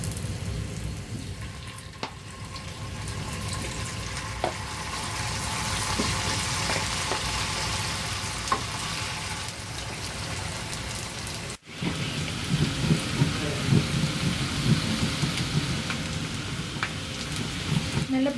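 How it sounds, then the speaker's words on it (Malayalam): Cauliflower florets for Gobi Manchurian frying in hot oil give a dense, steady crackling sizzle. After a brief dip partway through, the sizzle returns with louder, busier popping. "നമ്മുടെ ആദ്യത്തെ ബാച്ച് കോളിഫ്ലവർ ഇതിലേക്കിട്ട് വറുത്തെടുക്കാം"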